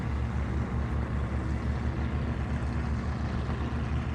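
A racing powerboat engine at the 2025 Great Lakes Grand Prix drones steadily across the lake, a continuous broad roar at a moderate distance that holds level throughout with no voices.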